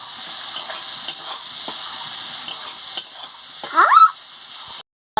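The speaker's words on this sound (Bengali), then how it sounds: "সামান্য একটু নুন দিয়ে পেঁয়াজটাকে ভালো করে ভেজে নিচ্ছি" Sliced onions with a little salt frying in hot oil, a steady soft sizzle with light stirring scrapes and a brief louder clatter near the end before it cuts off.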